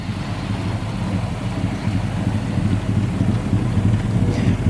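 The V8 engine of a 1966 Plymouth Barracuda runs at a steady low rumble, heard from the back of the car with some wind noise over the microphone and no voices.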